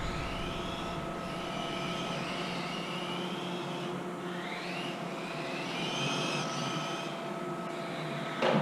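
Tamiya M-08 RC touring car lapping a track, a steady high electric whine rising and falling in pitch as it accelerates and brakes, continuous and fairly close.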